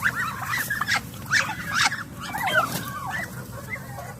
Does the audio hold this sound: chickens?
yes